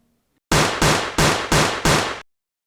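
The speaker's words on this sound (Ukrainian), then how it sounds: "пролунали постріли" Five loud, evenly spaced gunshots fire in rapid succession in a house's yard, each a sharp crack with a short decaying tail, then silence.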